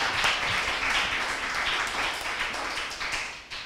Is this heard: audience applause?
yes